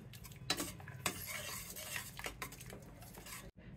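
A spoon stirs cooked dal with salt, chilli powder and turmeric in a pot, producing close, repeated metallic scrapes and clinks over a low continuous background.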